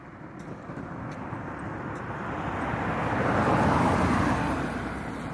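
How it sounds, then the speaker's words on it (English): A car passes by outdoors: a broad road whoosh swells steadily, peaks just after the midpoint, then begins to fade, with no one speaking. "hold on, car coming."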